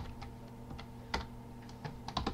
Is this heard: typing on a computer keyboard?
yes